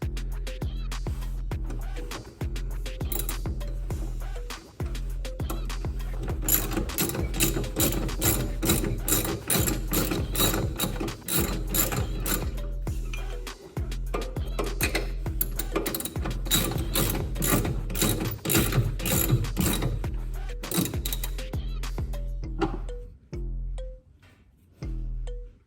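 A hand ratchet clicks in repeated bursts of quick pawl ticks, separated by brief pauses, while a nylock nut is tightened on classic Mini Cooper suspension, close and fairly loud, with no talk.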